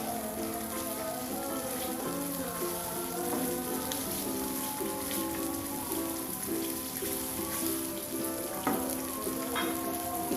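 Spice paste and coconut milk stirred in a pan for Indonesian beef semur, a continuous soft bubbling sizzle with faint scraping of the spoon, fairly quiet and steady, no talking.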